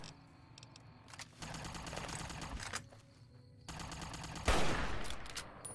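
Gunfire from Fallout New Vegas comes in rapid, rattling bursts of repeated shots with short pauses between them. One louder, sharper blast lands near the end. Nobody talks over it.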